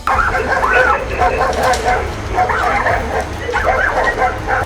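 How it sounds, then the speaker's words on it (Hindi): Several dogs bark and yelp in a noisy street attack on a young man, a dense, continuous clamour of overlapping barks with voices mixed in throughout. "दूसरे कुत्ते ने हमला बोल दिया।"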